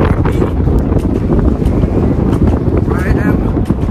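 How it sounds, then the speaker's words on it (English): Strong wind roaring and battering the microphone continuously on a sunny Canadian balcony, a heavy low rumble with faint voices underneath. "but it is so windy."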